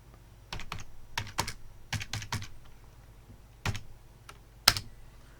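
Quick bursts of typing on a computer keyboard while working in an Excel spreadsheet, close and fairly quiet, with irregular clusters of keystrokes separated by short pauses and one sharper tap near the end.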